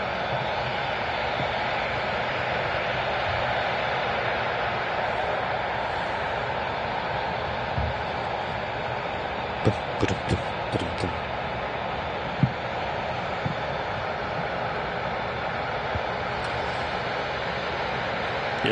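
An airliner on the Geneva flight at Manchester Airport, a steady broad engine roar held at moderate distance throughout, with a few brief knocks and clicks nearby and faint voices.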